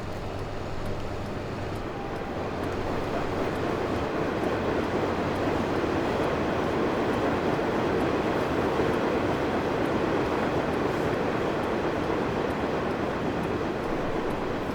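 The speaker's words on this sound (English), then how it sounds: "It's not every day you race a train." A train rolls past in Farming Simulator 2015 at Sandy Bay, a steady, dense rumble that holds level for the whole stretch with no voices over it.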